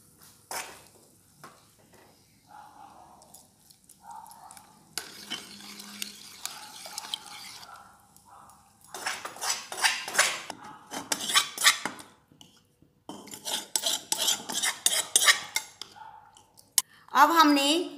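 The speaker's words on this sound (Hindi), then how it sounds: "अब हमने जो हमारे मसाला तैयार किया था वो चनों में मिक्स कर दिया है" A spoon scrapes and clinks against a pot while prepared masala is mixed into boiled chickpeas and chana dal, with soft stirring and scattered metallic clatter in uneven bursts, close and moderately loud, with a faint sizzle underneath.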